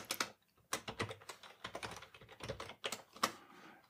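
Quick bursts of keystrokes on a computer keyboard as a credential is typed in, close and clear, in short uneven clusters separated by brief pauses, with no voices.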